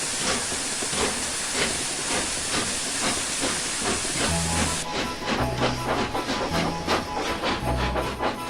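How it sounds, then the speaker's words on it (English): A steam train chuffs in quick rhythmic bursts over a continuous hiss of steam, with low mechanical thumps joining partway through. "the guard blew his whistle and the train was off"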